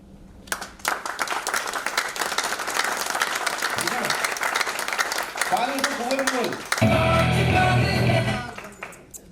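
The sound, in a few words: audience clapping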